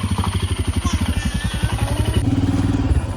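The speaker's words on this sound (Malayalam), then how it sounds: "അങ്ങനെ നമ്മളൊരു ബൈക്ക് റൈഡിങ് പോയിട്ടാണ്." A motorcycle engine thumps in a steady pulsing rhythm close up, its beat quickening slightly as it rides on.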